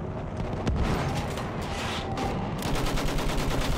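Rapid, sustained gunfire in the World War I shooter Battlefield 1, a dense fusillade of machine-gun bursts with heavy booming blasts mixed in, loud and close throughout.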